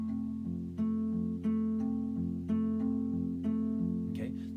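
Slow fingerpicked acoustic guitar arpeggio pattern from a song, repeating evenly with notes ringing over a low sustained tone, close and fairly quiet, with a short noise at the end.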